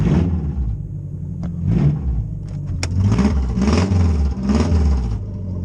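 A loud rally car engine idles with a deep, lumpy rumble at around 500 RPM, then revs up several times in quick bursts before settling back.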